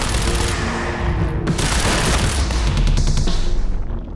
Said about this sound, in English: this time with the light machine gun